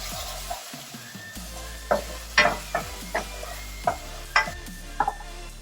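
Onions stirred in a hot pan for coconut vegetable fried rice, a steady sizzle beneath a series of sharp scraping strokes from the spoon, about ten irregular knocks close by with no voices.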